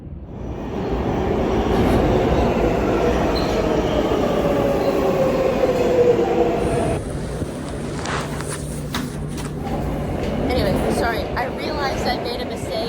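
A New York subway train riding toward Brooklyn under the river, heard from inside the car as a steady, loud rumbling roar with rail clatter and a shift in tone partway through.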